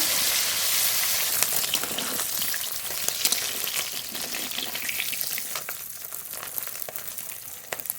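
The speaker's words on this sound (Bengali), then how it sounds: "মাছ খুব ভালো করে ভেজে নেবো" Shol fish frying in hot oil give a dense, continuous crackling sizzle full of sharp pops, loudest at first and easing slightly over time.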